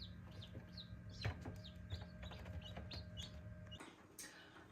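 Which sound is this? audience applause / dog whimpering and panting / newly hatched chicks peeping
newly hatched chicks peeping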